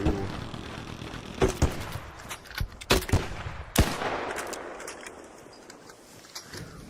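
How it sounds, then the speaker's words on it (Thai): Gunfire in the video game ARC Raiders: a few sharp shots and short bursts crack out at moderate distance over a steady background rumble, then fade to quiet. "เขายิงอะไรกัน"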